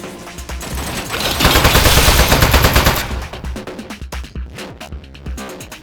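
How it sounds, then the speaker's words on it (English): Rapid turret gunfire in the video game Aperture Desk Job, dense automatic bursts that swell loud in the middle and thin into scattered shots, with no talk over it. "Oh, jeez, it's got a gun! It's an ambush!"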